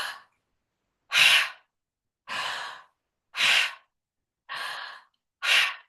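Six separate breathy exhales, spaced about a second apart with silence between, each a soft, airy hiss from a breathing exercise with arms raised, close and clear.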